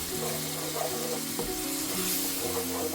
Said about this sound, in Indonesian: Dan ini kita tumis dulu sampai berbau harum ya.